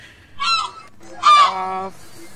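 A bird gives two loud, close honks, a shorter call followed by a longer, stronger one, with a quiet pause between them.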